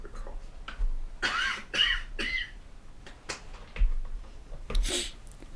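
A man coughs a few times in short harsh bursts close to the mic during a live Q&A talk stream, with brief throat-clearing sounds between them.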